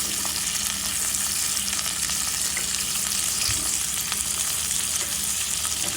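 Bay leaf, tomato and salt frying together in hot oil in a pan, a steady, dense crackling sizzle close up that runs without pause, with no voices.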